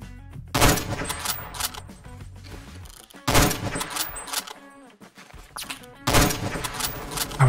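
Three heavy, booming sniper rifle shots in the Roblox shooter Phantom Forces, spaced a few seconds apart, each a loud close crack followed by a decaying tail and quieter game noise between.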